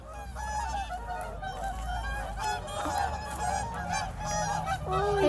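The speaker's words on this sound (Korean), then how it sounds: "백조무리가 있습니다" A flock of large waterbirds honks loudly and continuously, many overlapping calls nearby with a faint voice now and then underneath.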